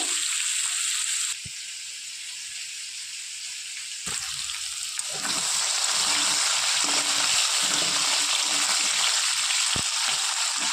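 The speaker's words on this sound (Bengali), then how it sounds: "আলুটা একটু হালকা লাল করে ভেজে নেব।" Potatoes frying in a pan of hot oil for a cauliflower curry, a steady loud sizzle that swells as more hiss builds, with occasional stirring clinks.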